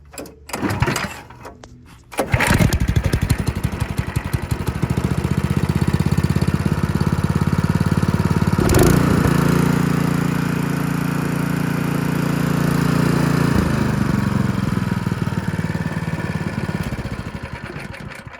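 A Honda GX small engine on salvaged lawn equipment is pulled, catches and settles into a steady, loud mid-pitched idle with a brief rev change midway, running alone for over fifteen seconds.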